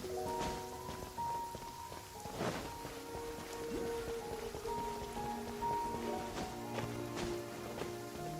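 Pouring rain in the Genshin Impact video game keeps up a steady hiss the whole way through. Game music and tones play over it, with a few louder splashy thumps.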